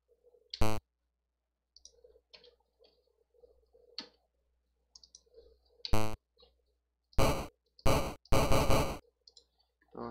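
Sega PSG sound chip noise mode produces short loud bursts of harsh broadband noise, one near the start and several clustered toward the end, separated by faint scattered clicks and quiet gaps.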